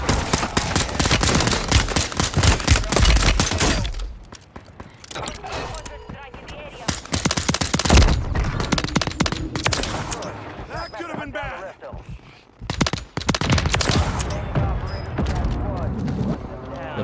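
Rapid bursts of gunfire from Call of Duty Modern Warfare III Warzone play loud and close, sharp shots packed into fast volleys with brief lulls and scattered booms between them.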